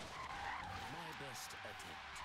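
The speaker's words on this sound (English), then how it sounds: "As my car goes for a spin." A car skids and spins out in the racing video game Forza Horizon 3, a steady tire-and-engine roar running throughout with a brief squealing slide midway, under engine noise and game sounds.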